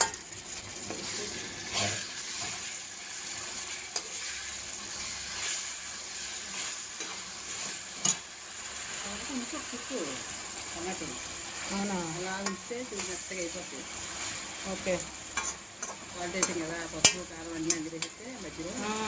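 Onions frying in a pan for potato kurma, a soft background sizzle with stirring scrapes and a few utensil clinks, fairly quiet, with someone speaking over the later part.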